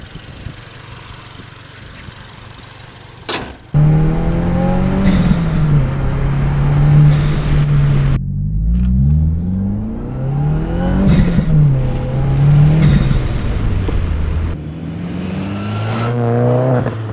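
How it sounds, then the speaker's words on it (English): Recorded from inside the engine bay, a VB Subaru WRX turbo engine fitted with a mechanical diverter valve revs repeatedly. The engine sits at a quiet idle, then a sudden loud start gives way to rising and falling revs and gear changes up close. "I've got my mic in the engine bay here, and we're gonna test it."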